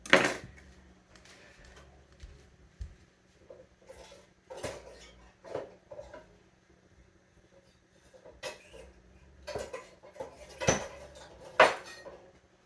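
Cutlery and kitchen utensils clatter while another knife is fetched, a scattered series of sharp metallic clinks and knocks with quiet pauses between them.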